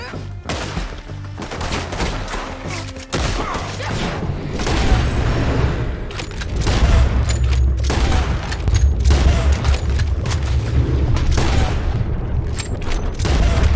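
Sustained gunfire battle in Red Dead Redemption 2, with dense rapid shots and booming reports filling the whole stretch, loud and continuous with heavy low-end rumble.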